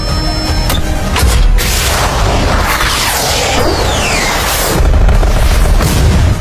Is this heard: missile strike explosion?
yes